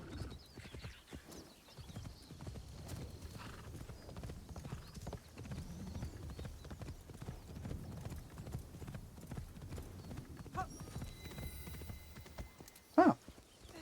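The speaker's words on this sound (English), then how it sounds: "Considering I'm on horseback and he's not." Rhythmic clip-clop of horse hooves galloping across ground in Assassin's Creed Shadows, steady and moderately close, with a short snort or whinny near the end and no speech.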